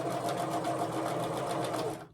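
A sewing machine stitches temperature quilt pieces together in one steady, rapid run that is close and continuous. It stops abruptly at the end.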